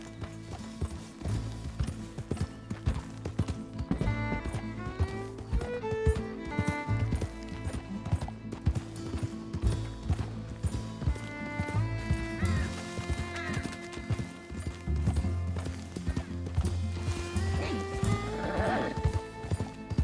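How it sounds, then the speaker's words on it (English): Horse hooves clip-clop steadily alongside whinnies and snorts in Red Dead Redemption 2, mixed with game music and occasional speech throughout. "That horse looks like a fine traveling companion."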